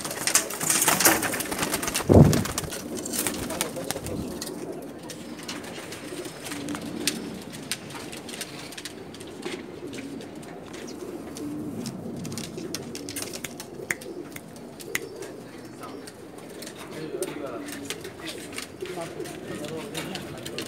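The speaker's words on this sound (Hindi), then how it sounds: "ये देखें जी, बटेरा कबूतर है" Soft cooing of a pair of Sialkoti pigeons repeats throughout over a steady murmur of background activity, with a brief sharp clatter near the start.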